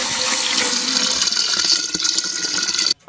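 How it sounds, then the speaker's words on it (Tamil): Collected rainwater is poured into a pressure cooker for a jackfruit curry. A loud, steady gushing stream runs close up for nearly three seconds, then cuts off sharply. "தண்ணி நம்ம மழைநீர் சேகரிப்புலேருந்து மழை நீரே எடுத்து தான் நம்ம வந்து இப்போ வந்து போட போகிறோம்"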